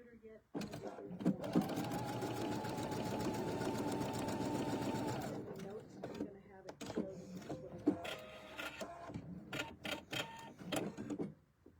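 Domestic sewing machine stitching right-sided quilt squares together, a steady motorized whir running for about five seconds, then stopping, followed by quieter handling clicks and rustling of fabric pieces, with no talk.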